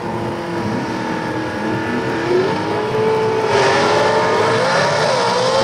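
A gasser drag race car with a one-way hood blasts off down the strip at London, Kentucky, its engine roaring loud and close, rising in pitch as it accelerates and swelling louder toward the end.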